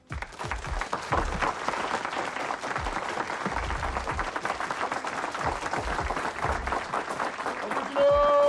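Crowd gives sustained, dense applause welcoming a mosque captain at a Muhammad's Mosque gathering in Philadelphia, steady clapping throughout with a louder burst and a whistle-like tone at the very end.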